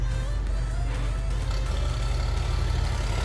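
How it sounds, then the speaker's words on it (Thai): A Kubota L3408 4WD tractor fitted with a dozer blade and breaking plow runs its diesel engine, producing a steady close rumbling chug with a regular low-frequency pulse throughout and no speech. "เครื่องยนต์ดี นะ ครับคันนี้สตาร์ทติดง่ายไม่ต้องเผาหัว"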